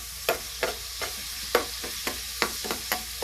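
Garlic sautéing in a pan for bistek tagalog: a steady sizzle broken by sharp, regular scrapes of a spatula stirring, close and fairly quiet, with no voices.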